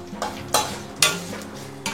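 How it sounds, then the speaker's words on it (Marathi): Curry leaves fry crisp in hot oil for chivda, a close crackling sizzle broken by sharp bursts of spattering at regular intervals, with faint utensil clinks beneath. "तर इथे मी कढीपत्ता पण एकदम मस्त असा तळून घेतलेला आहे।"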